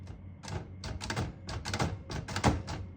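A 1935 Royal A Model portable typewriter clacks through a quick run of sharp mechanical strikes and thunks, several bursts in uneven rhythm, close and clear with no talking.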